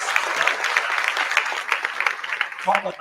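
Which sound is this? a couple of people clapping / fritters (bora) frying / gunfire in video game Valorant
a couple of people clapping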